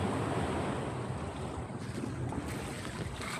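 Steady wash of sea surf with wind buffeting the microphone, a continuous broad roar without distinct breaking crashes.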